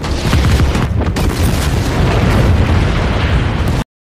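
A massive, continuous roaring explosion from weapons fire striking rocks, with rumbling, crackling debris, fills nearly four seconds at high volume, then cuts off abruptly into silence.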